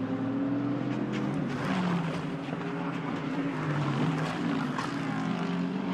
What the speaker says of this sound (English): There's the McLaren coming down the hill.